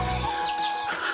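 Golden-feathered chickens clucking nearby, with a few short calls over a quiet outdoor background and no talking.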